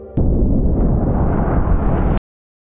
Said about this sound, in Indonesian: 3 menit kemudian nuklir pun meledak